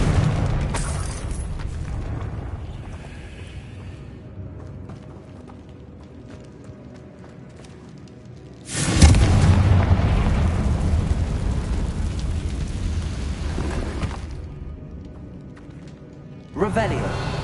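Confringo blasting spells exploding in Hogwarts Legacy: a sharp, loud blast bursts in and rumbles on for several seconds before dying away, and a second blast follows near the end. A voice speaks over the scene.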